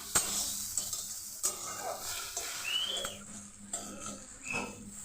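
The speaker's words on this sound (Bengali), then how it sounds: "ফোড়ন করে হালকা করে ভেজে নিলাম, নাড়াচাড়া করে এখন নামিয়ে নেব" Black cumin seeds fry for tempering in hot oil, crackling and sizzling steadily while a utensil stirs them with repeated scraping strokes and light knocks against the pan.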